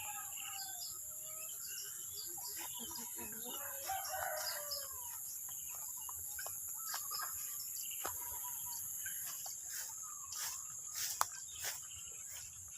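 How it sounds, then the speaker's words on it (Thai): A rooster crows and chickens cluck in a farmyard on a clear morning, with several birds scattered at moderate distance over a steady hiss of insects, faint and intermittent throughout. "นี่ครับ พ่อไก่"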